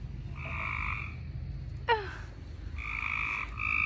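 Several frogs croak loudly in a backyard near a swimming pool, two long buzzing trills with a brief sharp call between them, close and clear over a low background hum, with no talking.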